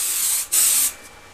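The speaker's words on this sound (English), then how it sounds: "And then you spray it. You don't spray down." Hairspray from an aerosol can sprayed upward into hair, heard as two close hissing bursts, a short one then a slightly longer, louder one, with a faint trailing hiss.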